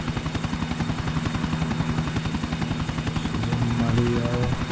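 A helicopter in GTA IV: The Ballad of Gay Tony thrums steadily, its rotor chop loud and continuous as game sounds play underneath.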